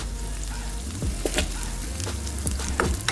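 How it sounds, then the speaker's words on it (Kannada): Fenugreek, urad dal, black pepper, black sesame and curry leaves frying in hot oil over a low flame, a close crackling sizzle with irregular pops and brief clatters of stirring. "ಸಣ್ಣ ಉರಿಯಲ್ಲಿ ಮಸಾಲೆಯನ್ನು ಚೆನ್ನಾಗಿ ಫ್ರೈ ಮಾಡುವ"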